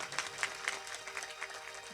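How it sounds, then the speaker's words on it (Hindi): Faint, brief patter of audience clapping in a religious discourse gathering, a few scattered claps heard from a distance over low room noise. "बाबा खातिर ताली बजाई एक बार भाई।"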